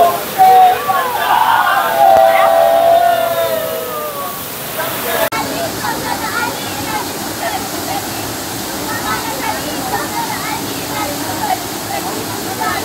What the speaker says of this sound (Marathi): एवढ्या घनदाट जंगलातून चालून आपल्याला आता ती मुवमेंट आहे की आपल्याला इथनं वॉटरफॉल दिसतोय.